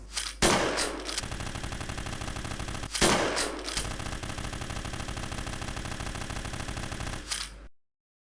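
Assault rifle and shotgun fire from a horror first-person shooter built in Unreal Engine 5, set in a mysterious small town: loud, dense bursts of rapid shots open at three points, each followed by a sustained clattering roar, with no talk.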